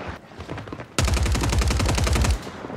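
Rapid automatic gunfire from the video game Call of Duty Warzone Rebirth, a loud, sustained burst of evenly spaced shots lasting over a second after a quieter stretch of background game noise.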